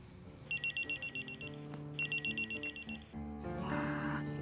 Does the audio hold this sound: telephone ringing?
yes